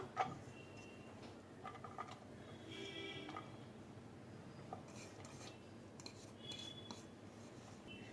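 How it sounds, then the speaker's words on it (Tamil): Leftover cooked rice mashed in a bowl, giving soft, faint utensil scrapes and light clinks against the bowl in an uneven rhythm, quiet and close with no talking. "சாதத்தை நல்லா மசிச்சுக்கலாம்."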